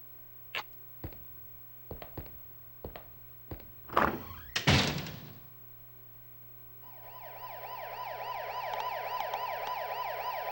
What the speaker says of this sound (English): I heard the siren coming from the outside.